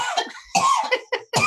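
A woman coughs several times in short, harsh bursts, close and loud, with brief pauses between coughs.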